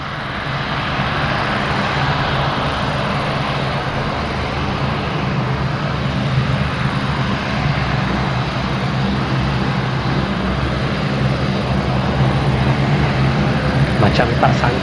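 A CN-235 aircraft running on palm oil fuel drones with a continuous, loud engine roar that stays steady throughout, with faint voices underneath.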